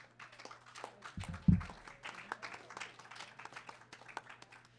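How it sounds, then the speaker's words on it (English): An audience applauds at a summer institute's final presentations, with scattered hand claps and a brief louder burst, fairly quiet and light overall. "can we get a round of applause for the wonderful professors, instructors, and for the amazing groups that came before us?"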